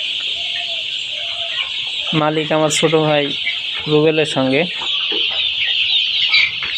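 Fifteen-day-old chickens clucking and calling close by on a poultry farm, with repeated bursts of cackling over a constant hum of farm ventilation, while someone speaks briefly.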